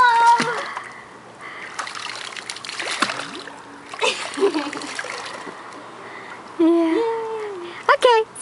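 Water splashes and sloshes around someone's cannonball jump, with several splashes and trickles under lively voices, shouts and laughter.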